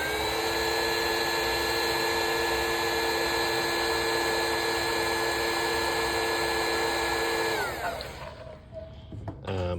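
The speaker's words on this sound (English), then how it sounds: "I have a heat gun here" A heat gun blows steadily at close range, a loud continuous whirring roar with a fixed tone that cuts off near the end, leaving quiet handling noises.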